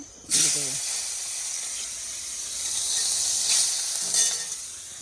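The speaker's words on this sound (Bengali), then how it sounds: "ওই মাছটা একটু ভাইজে দেবো" Fish frying in hot oil in an iron wok, a loud, steady sizzle that bursts in sharply and holds throughout, swelling briefly with fresh spattering, alone without talk.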